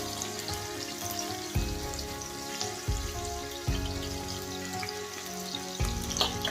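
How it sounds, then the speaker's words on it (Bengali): Sliced onion frying in hot oil with a steady low sizzle, broken by a few louder thumps and scrapes as it is stirred around the pan, close up and without speech. "পেঁয়াজটা দেওয়ার পর নেড়ে নেবো যতক্ষণ এটা গোল্ডেন ব্রাউন হয়"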